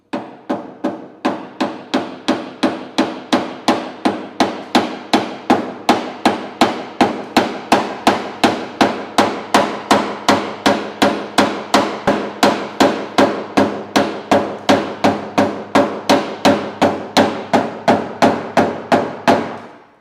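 A hammer taps steadily against heated car panel sheet metal while a dent is worked out. Sharp, evenly spaced metallic knocks repeat about twice a second for the whole clip, close and loud, with no talking.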